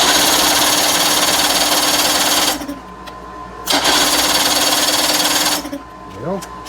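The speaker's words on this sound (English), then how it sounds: "I'm going to advance the throttle a little bit, maybe high idle, and we'll crank it and see what happens." A 1990s 30 hp Evinrude outboard motor being cranked, two long loud bursts of rapid mechanical chatter from the starter separated by quiet pauses, close by, ending in a short rising whir.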